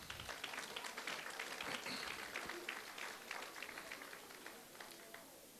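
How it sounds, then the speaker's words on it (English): Faint applause from the crowd at a West Indian Social Club 68th anniversary celebration, scattered clapping that thins out and softens toward the end. "Let's give them a round of applause."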